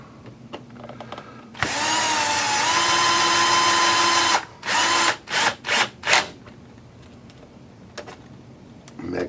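Power drill driving screws into an Axial Yeti XL RC truck build, one long steady whirring run followed by four short bursts as the screws seat, loud and close, with no speech.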